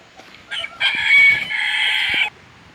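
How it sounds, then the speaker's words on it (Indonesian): Chickens hatched in a simple egg incubator crow loudly nearby, a rooster's drawn-out crow over brief clucks against a quiet yard. "Ini ayam yang sudah diletaskan dengan mesin."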